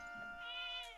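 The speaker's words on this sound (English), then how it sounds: "Cat!" A cat in the video game Zelda: Echoes of Wisdom gives a single short, clear, high-pitched meow that rises and then falls.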